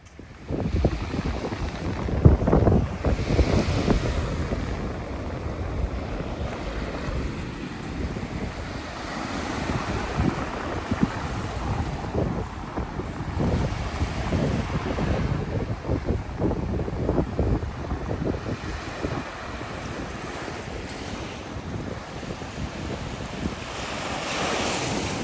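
Surf rolls in continuously at Baby Beach on Maui, with heavy wind buffeting the microphone over a dense, steady wash of waves, loud and close for the whole stretch with no talking.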